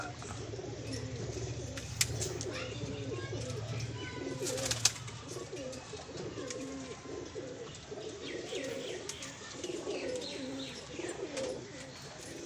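Pigeons kept as a hobby coo softly at a distance, low rolling calls repeating throughout, with occasional chirps and faint background noise.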